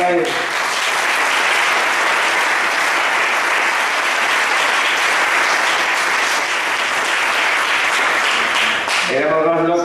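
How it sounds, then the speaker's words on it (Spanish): Dense, continuous audience applause fills the room loud and steady for several seconds, tailing off as a voice returns at the end. "Un aplauso para él."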